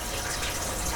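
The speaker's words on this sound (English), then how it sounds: "As Mike takes the hose off the intake side of the engine water pump" Water gushing hard from a hose pulled off the intake side of a boat engine's water pump, a loud, continuous rushing flow close to the listener, with no voices.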